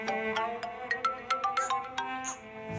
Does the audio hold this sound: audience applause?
no